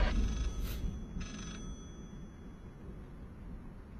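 A telephone rings somewhere off in a horror video game, a few faint, distant bell bursts in the first second and a half, then a low, murky ambient drone with no talking.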